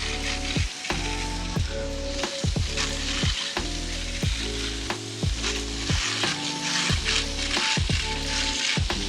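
A pressure washer sprays a house exterior with a constant loud hiss, and a rhythmic mechanical tone pulses underneath.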